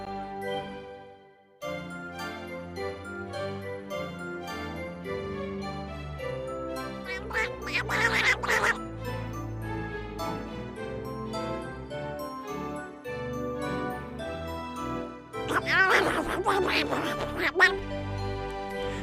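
Donald Duck's raspy, voiced quacking comes in two clear bursts over cheerful background music with jingling tones; it is a performer's voice imitating a duck, not a real bird.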